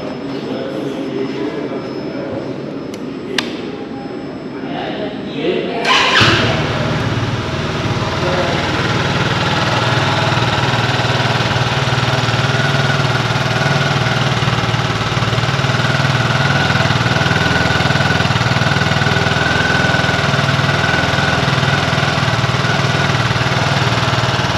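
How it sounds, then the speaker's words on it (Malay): A SYM Husky 300 scooter engine cranks and catches after a few seconds of near quiet, then settles into a steady, loud, close idle that runs without pause. "saya nak anda dengar bunyi motor ini. Saya akan turn on, lepas tu saya akan biar anda dengar lah"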